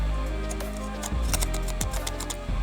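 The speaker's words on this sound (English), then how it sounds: "listen to the cape." Cheap plastic cape on a knockoff LEGO Mandalorian minifigure being crinkled close to the microphone, a series of dry, sharp crackles and clicks over a steady low background hum.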